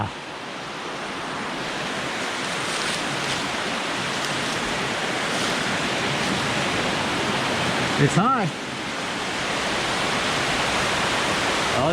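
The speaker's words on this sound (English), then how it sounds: "it's definitely a waterfall" A waterfall inside a hydro dam tunnel produces a steady, loud broadband roar of rushing water that fills the whole stretch, with a brief voice speaking midway.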